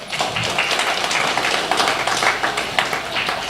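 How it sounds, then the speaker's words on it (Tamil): A seated audience at an astrology talk claps together on request, a steady, fairly close crowd applause that continues without pause for the whole stretch, with no voices over it. "இப்ப என் சைடுல இருந்து கைத்தட்டல் கம்மியா வந்திருக்கு போல."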